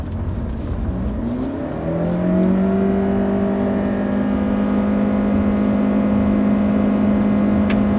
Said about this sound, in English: trying to merge into fast-paced traffic. Basically, I had the accelerator floored there